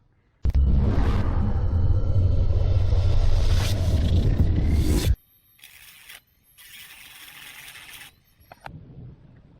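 Plastic propellers on an Eachine Tyro 109 drone are shaved down, giving a loud, continuous rasping scrape for several seconds, then softer, broken scraping strokes close by.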